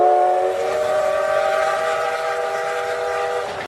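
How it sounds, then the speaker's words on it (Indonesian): A steam train whistle sounds one long, loud, steady blast with rich harmonic tones that fades out at the end. "muncullah kereta api berbahan bakar uap"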